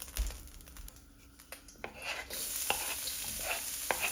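Shallots hitting a hot pan and stirring begin with a quiet scrape, then a steady sizzle rises and holds, with sharp spatula knocks and clicks against the pan over the frying hiss.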